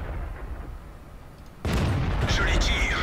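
A tank cannon fires once in World of Tanks, a sudden loud boom that cuts through quieter background game noise, followed by a sustained rumble with crackling and whooshing effects.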